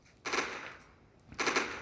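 In the video game Firefight, played with a Ukrainian war mod, two loud bursts of rapid automatic gunfire ring out, each lasting about half a second and separated by a brief pause.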